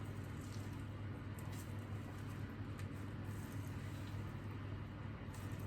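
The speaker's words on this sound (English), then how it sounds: "And I apologise for the oven noise in the background." An oven hums while sterilising jars and bottles in a kitchen during dandelion salve making. The low, steady drone stays faint and unbroken throughout, with no voices.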